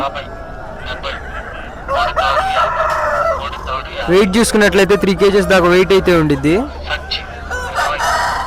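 Country chickens and roosters at the Nallapadu Friday market, with a loud rooster crow rising and falling through the middle amid clucking and market chatter, people talking nearby throughout.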